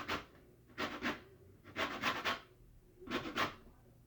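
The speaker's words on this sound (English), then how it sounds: "I'll be back when I finish grating the lemons." Hard lemons being grated for zest, rasping in four separate bursts of rapid back-and-forth strokes with short pauses between them, close and fairly quiet with no talking.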